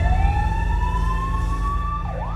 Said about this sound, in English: That ambulance you can hear is our intensive care paramedic